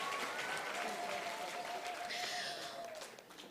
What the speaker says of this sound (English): Let's give him a round of applause he deserves, yeah?